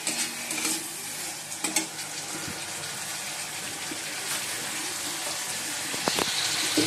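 Sugar, cashews and raisins sizzle in oil in a pan while being stirred, a steady close frying hiss broken by occasional scraping spoon strokes.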